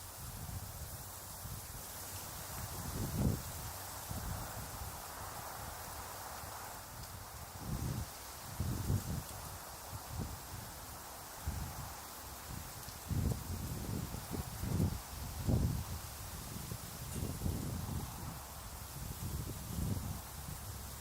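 Blustery wind gusts outdoors push broadband rushing noise through the scene, swelling and easing in irregular bursts with a rustling, leafy texture over a steady hiss, close to the microphone, with no voices.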